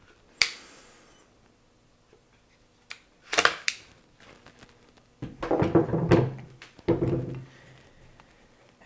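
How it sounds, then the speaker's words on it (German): Bolt being removed from a Beretta BRX1 rifle in .308 Win with a 51 cm barrel: a sharp metallic click, then a pause, then clacks and a cluster of rattling mechanical sounds close by. "Erstmal den Verschluss entnehmen."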